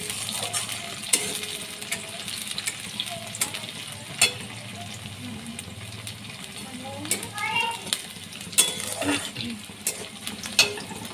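Eggs cook in a home kitchen pan with a steady low sizzle and occasional stirring scrapes and clinks. Voices, including a child's, murmur faintly in the background.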